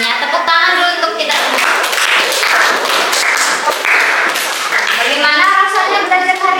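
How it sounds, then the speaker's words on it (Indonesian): High school students applaud in a classroom, giving a burst of clapping mixed with young voices talking and cheering over it. "Tepuk tangan dulu untuk kita."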